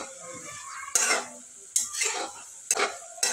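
Onions fry in oil in a pan for homemade hair oil, with a quiet sizzle and three sharp stirring scrapes spaced about a second apart.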